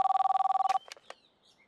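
A telephone bell rings in a rapid, steady burst of loud electronic trills that cut off abruptly, followed by a few faint clicks and rustles.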